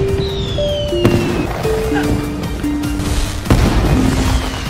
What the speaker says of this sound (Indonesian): dan diakhiri dengan main petasan